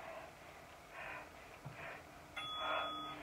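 A single bell rings near the end of a workout round, a short bright metallic ding after a stretch of faint breathing and movement sounds.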